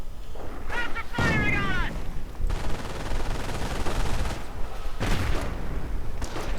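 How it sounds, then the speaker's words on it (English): MG42 machine gun fire in a WWII real-time strategy game match, with rapid bursts, booming impacts and scattered battle noise running loud throughout, plus a short whistling shell sound near the start. "Rather than getting suppressed though by the MG42."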